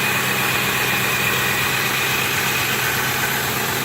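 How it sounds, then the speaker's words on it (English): A 2003 Ford Mustang GT V8 idles smoothly and close by, a steady even rumble with no revving over a few seconds. "Look how nice and smooth the engine works."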